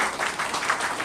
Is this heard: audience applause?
yes